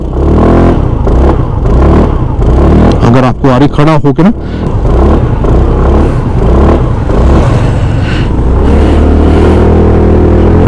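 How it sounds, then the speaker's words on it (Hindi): Hero Xoom 160 maxi scooter exhaust revving close by in loud repeated bursts, with someone talking over the engine throughout. "आपको एग्जॉस्ट की आवाज सुना देता हूँ इधर से करके"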